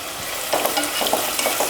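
Onions, green chillies and curry leaves sauté in an oil-filled pan for a poori kurma, with a steady soft sizzle broken by a few light stirring scrapes and clinks.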